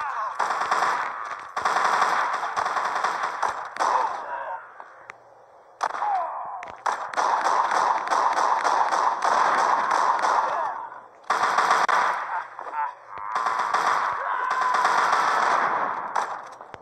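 Rapid automatic gunfire in the video game The Walking Zombie 2, set at a dam defense. Long sustained bursts are broken by short pauses across the whole stretch, loud and close, with no talk.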